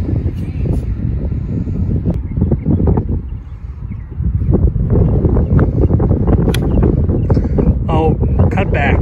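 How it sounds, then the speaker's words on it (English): Steady low wind rumble buffets the microphone outdoors on a golf course in Las Vegas, with a few brief voices and light sounds over it. "Windy as cheese out here."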